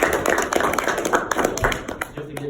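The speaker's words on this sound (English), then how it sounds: "let's clap it up for E for throwing this event" An audience at a real estate seminar claps for the event's host, a brief burst of dense, fairly close hand claps with some voices mixed in.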